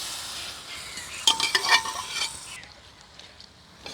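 Cooked duck is stirred into a roast masala in a pan, a short burst of scraping and clinking utensil strokes over a faint sizzle, then quieter frying.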